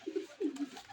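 Pigeons coo in soft, low, throaty phrases, two or three rolling coos close by over a faint background of other birds chirping.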